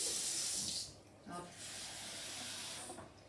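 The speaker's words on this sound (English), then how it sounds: "So we're just going to get some cold tap water." Cold tap water runs from a kitchen faucet into a jug with a bright, hissing splash that cuts off, then resumes as a softer, steady trickle; faint background noise lies underneath.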